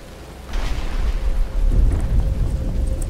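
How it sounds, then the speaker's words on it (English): Heavy rain hissing with a deep rolling rumble of thunder in the video game Batman Arkham Asylum, a low growl building and sustained, loud and close, no talking. "But it's starting to rain."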